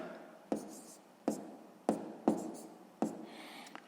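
A hand writes out a sixth-grade math solution, with five distinct taps and strokes of a pen on paper, close and quiet, about one every half second.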